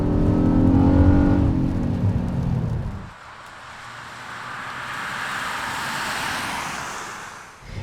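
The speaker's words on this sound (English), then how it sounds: "this Honda makes a nice, snarly sound when it's working hard" A 2020 Honda Odyssey minivan's 3.5-liter V6 engine revs hard and snarly at first, rising in pitch, then cuts away to a quieter rushing road and wind noise.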